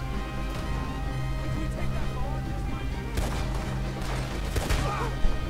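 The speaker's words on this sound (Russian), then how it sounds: "А, сверху стреляют." Gunfire in the Red Dead Redemption 2 video game during a ranch battle, with shots coming from above: sharp cracks and bursts ring out over a steady musical background, clustering near the middle and end.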